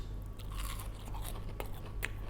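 Close crunchy bites and chewing of crispy breaded fried chicken, a few crackling crunches over a steady low background hum, with no talk.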